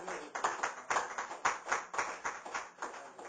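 A congregation clapping in steady rhythmic unison during a church service, around a dozen distinct claps in a few seconds, moderately close and fairly quiet, with no talking over it.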